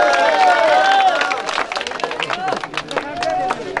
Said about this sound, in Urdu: بھرپور تالیاں سعید عالم کے لیے.